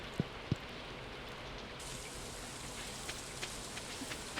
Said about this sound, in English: Yay for rain.